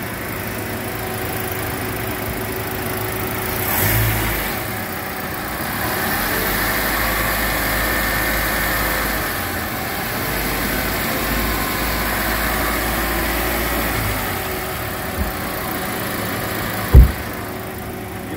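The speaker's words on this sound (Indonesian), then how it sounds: "Kita dengerin suara mesinnya dulu." A Toyota Rush car engine idles steadily at a low, even rumble, close by, with a brief knock near the end.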